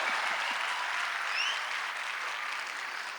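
Steady, dense applause from a live comedy audience at a Hindi satirical show, filling the whole stretch at an even, sustained level with no speech over it.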